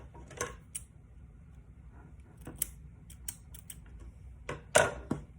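Scissors snipping thread tails off a handmade clay bead bracelet, a few sharp, quiet clicks and snips spaced out over faint background noise, the loudest cut near the end.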